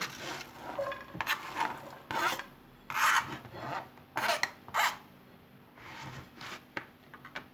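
Onions sautéing in olive oil in a pan, heard as a quiet frying sizzle. Sharper scraping and rasping bursts recur every second or so, close to the listener and moderately loud.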